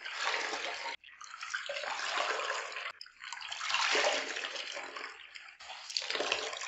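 White towel swirled by hand in a tub of water, bursts of sloshing and splashing that rise and fall in several waves with short quiet gaps between them, close and steady without any speech.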